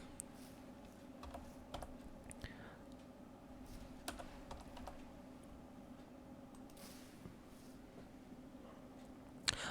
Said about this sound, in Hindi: मैं एक बार टाइप कर लेता हूं।